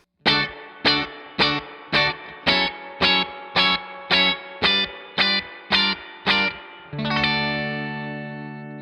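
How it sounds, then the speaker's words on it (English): An electric guitar through a Victory V40 Deluxe amp's spring reverb strikes eleven evenly spaced chords with short reverb tails, then lets a final chord ring out and slowly decay, alone with no talking. "It's definitely usable, but you're just not going to get that huge kind of reverb."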